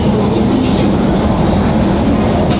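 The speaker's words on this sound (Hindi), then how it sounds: "एग्जैक्ट 5:15 पर निकल चुकी है हमारी कालका शताब्दी न्यू दिल्ली से।" The Kalka Shatabdi passenger train, running after departing New Delhi, fills the carriage with a loud, continuous rumble and rattle and faint rhythmic clatter from the wheels on the rails.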